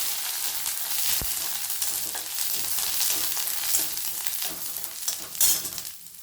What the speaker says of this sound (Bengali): এটাকে আমি ভালো করে নাড়াচাড়া করে নেব।